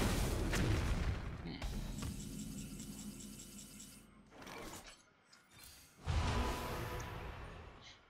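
In a priest dungeon session of a video game, bombs explode in booming, rattling blasts with whooshes and mechanical clatter, and a voice talks briefly in between.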